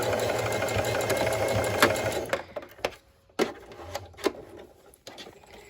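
A sewing machine stitches a medical face mask with red thread, running in a steady close whir for about two seconds and then stopping, followed by a few scattered clicks and knocks.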